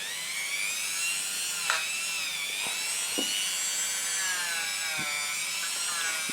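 A machine polisher buffing a motorcycle exhaust with polishing compound, a continuous high whining drone with a slightly wavering pitch, steady and close throughout.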